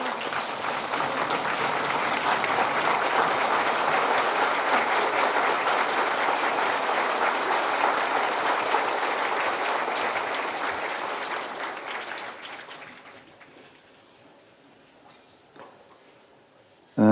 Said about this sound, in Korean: 우리 교정공직자 모두 일어나서 박수 한번 쳐드리십시다